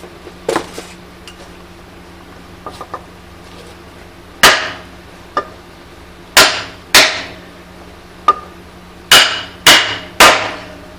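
A large bearing is tapped into place for a Shelix cutting head, sharp metallic hammer strikes coming singly and in pairs at irregular intervals, close and loud with a brief ring after each, no talking.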